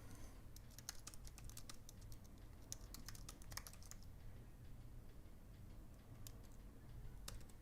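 Light clicking of keys on a computer keyboard in bursts of quick taps with short pauses, faint and close, with no voices.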